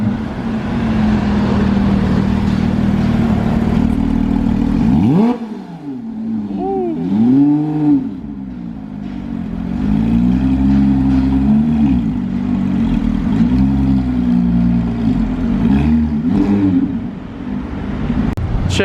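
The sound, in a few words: Porsche 918 and Mustang convoy driving by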